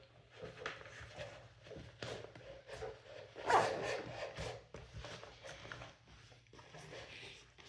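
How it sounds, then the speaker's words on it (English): An Eberlestock Bando bag is zipped in short, faint scraping pulls that stop and restart because a carried pistol sticks out and keeps the zipper from closing, with rustling fabric between the pulls. "Yeah, this just isn't going to zip because my sights are sticking out, and obviously the muzzle."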